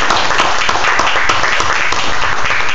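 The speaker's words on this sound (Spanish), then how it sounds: "Denle un aplauso a nuestro Señor Jesucristo en esta preciosa noche" A church congregation applauds during an evening Bible study service, a dense, steady wash of clapping hands filling the space at close range with no talk over it.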